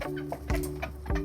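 Bantam chickens on a homestead cluck in short, close bursts, a few soft calls spaced across a moment over a steady low background hum.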